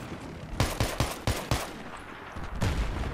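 Gunfire in the video game Battlefield 3 during a capture-the-flag match on Operation Riverside: five sharp, closely spaced shots in a quick rhythm, a pause, then another loud shot near the end over a low background rumble.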